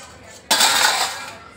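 A metal pressure cooker lid is set onto the cooker with its rubber ring, making one sharp metallic clatter followed by a brief ringing rattle that fades, up close in a home kitchen.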